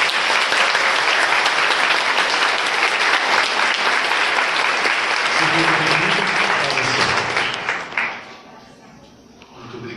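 A church congregation applauding a visiting friar at a Mass, loud, dense clapping filling the space for about eight seconds before tapering off to quiet room tone with faint voices.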